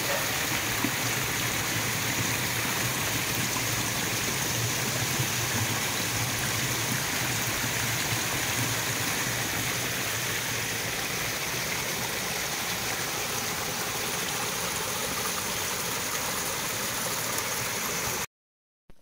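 A forest stream rushing down between hills into Chimmini dam, a loud, steady, continuous roar of flowing water that holds unchanged throughout and cuts off abruptly at the end.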